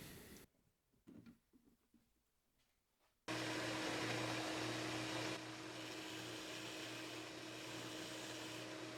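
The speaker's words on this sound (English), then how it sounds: "I like to use my grinder to roughen my handles before I move on to refining things by hand" A grinder roughens the handle of a knife replica of Aragorn's blade, starting after a few quiet seconds with faint knocks, then running as a loud, steady whine that eases slightly partway through.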